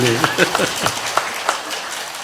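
Church congregation applauding in a short burst of scattered clapping, fairly close and moderately loud, fading over about two seconds with a voice faintly underneath.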